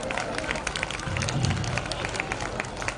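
A large outdoor crowd claps steadily to welcome party workers at a political rally, with dense, continuous applause mixed with murmuring voices and a few cheers, loud and close.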